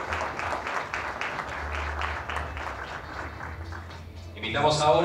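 Applause at a municipal authorities' proclamation ceremony, a moderate crowd clapping steadily for around four seconds before a voice starts speaking over the tail end.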